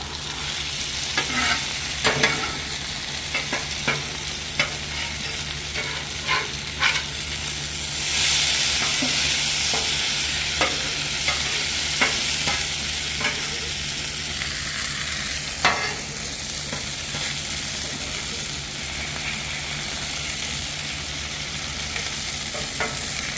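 Hash browns fry on a Blackstone griddle with a constant close sizzle, while spatula scrapes and taps sound now and then as they are turned.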